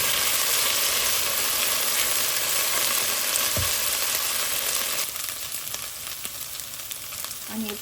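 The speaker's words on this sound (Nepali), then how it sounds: "अब यसरी आलुलाई चाहिँ 3-4 मिनटसम्म मजाले पकाउनु पर्दछ।" Potatoes frying in oil in a pan while gundruk curry is being made, giving a steady broadband sizzle that carries on evenly and eases a little toward the end, with no talking.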